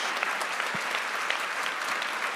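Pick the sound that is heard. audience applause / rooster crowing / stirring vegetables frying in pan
audience applause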